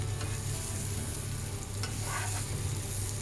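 Potatoes folded gently into fried onions for Sri Lankan devilled potatoes, giving a steady, loud sizzle with a few soft scraping strokes over it.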